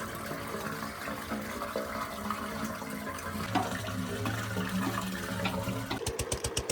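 Water gushes and gurgles as it flows into a pipe, a steady close rush that gives way to rhythmic pulsing surges at the end.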